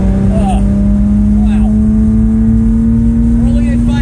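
A Datsun 280Z engine hums steadily and slowly climbs in pitch while cruising under load, heard from inside the car, with a driver talking over the drone.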